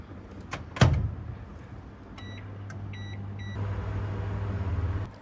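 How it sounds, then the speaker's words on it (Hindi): Microwave oven heating chopped chocolate and cream to melt: a sharp door clunk, a short run of electronic beeps, then a steady low hum that continues to the end. "इसको हम 2 से 3 मिनट के लिए माइक्रोवेव करके इसको मेल्ट कर लेंगे।"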